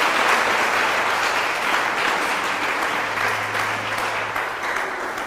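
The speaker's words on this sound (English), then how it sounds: "let's give them a round of applause." A contest audience applauds the contestants with a loud, continuous wash of clapping that holds steady for several seconds and fades slightly at the end.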